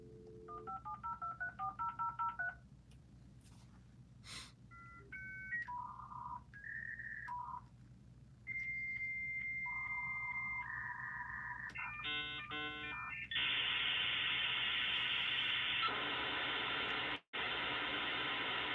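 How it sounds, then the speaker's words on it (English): A dial-up internet modem connects: quick touch-tone dialing beeps, then a series of warbling handshake tones and a harsh, hissing screech, heard at a fairly low level. "The sound of dial-up internet."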